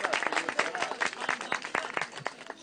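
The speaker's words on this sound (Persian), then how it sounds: "به افتخار تشویق بکنید" An audience at a competition show applauds a woman introduced as an eleventh-term parliamentary candidate, producing steady, dense clapping that stays loud and close for the whole stretch.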